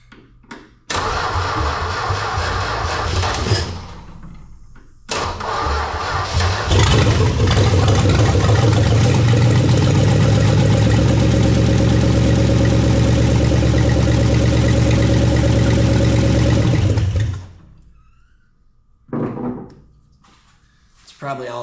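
A Dodge Duster's engine cranks briefly, stops, then fires and runs loud and raw through open manifolds with no exhaust, roaring steadily for about ten seconds before cutting out. A short restart follows, and voices can be heard around it.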